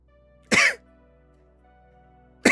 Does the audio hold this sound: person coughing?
yes